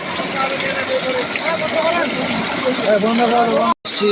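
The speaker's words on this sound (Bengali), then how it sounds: "মোটর চালু করতেই এত বিশাল পানি" A Leo 5 horsepower water pump gushing water outdoors at night, a loud, continuous broadband roar of rushing water with a voice talking over it and a brief dropout near the end.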